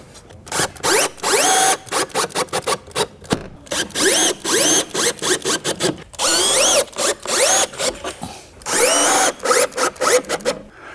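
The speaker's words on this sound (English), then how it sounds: "we're going to go ahead and screw in the mounting channel into our window opening" A power drill drives screws to fix a window-blind mounting channel into a window opening, with repeated short bursts of whirring separated by brief pauses, loud and close, and no talking.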